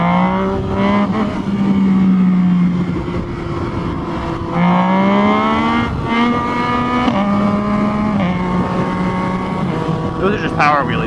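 A Yamaha FZ-09 motorcycle with a quick shifter revs hard through a power wheelie, its loud engine note climbing and dropping in steady tonal sweeps, close and continuous.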